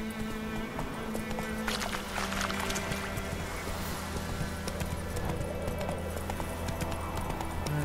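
Geralt's horse Roach gallops in The Witcher 3, a steady drumming of hooves that runs without a break under continuous game ambience and music.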